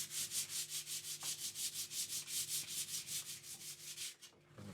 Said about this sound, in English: Lots of sanding to do to clean up the scratch marks up here.